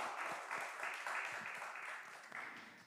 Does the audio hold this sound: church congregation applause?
yes